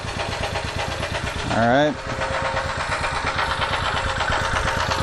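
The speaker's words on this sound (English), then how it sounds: "There's a little engine going." Small generator engine running on HHO fuel, a steady mid-pitched drone throughout with a brief rising whine near the start, while someone talks over it.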